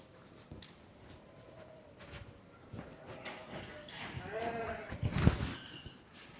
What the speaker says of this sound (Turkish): Kuzular da meliyor.